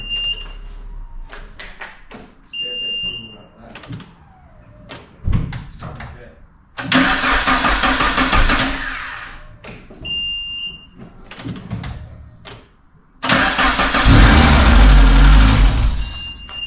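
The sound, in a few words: Renault Clio Williams engine starting and running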